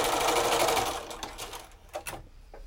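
A sewing machine runs in a fast, close whirring burst while joining quilt block pieces of cotton squares, then slows and stops, leaving a few light clicks and handling taps.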